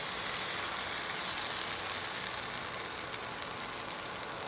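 Sama rice crepe batter poured slowly onto a hot pan, giving a continuous soft sizzle and hiss that holds steady throughout, close and fairly even in level.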